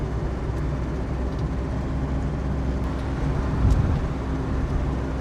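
A classic BMW 2002 driving along, a steady low engine rumble with road noise throughout, swelling briefly near the end as the car shifts into third gear.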